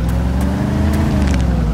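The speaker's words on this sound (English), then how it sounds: "Seriously ran me over with the car." A car in the video game DayZ drives over a player, a loud, close engine drone with steady low rumble for a brief moment, no talking.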